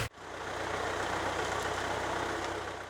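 A steady, continuous tractor engine drone with a low rumble runs throughout, loud and close, with no voices over it, during tree seedling planting with a planting machine.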